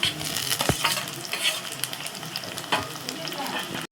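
Onions, tomatoes and curry leaves sautéing in a pan for crab curry, a loud, dense, continuous sizzle close up, with a few scrapes of a stirring spoon.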